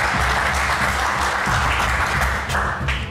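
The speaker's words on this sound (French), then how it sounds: "Sous les applaudissements" A studio audience on a French television game show set applauds steadily and loudly, dense clapping holding at a constant level throughout with a low rumble of stage sound beneath and no voices over it.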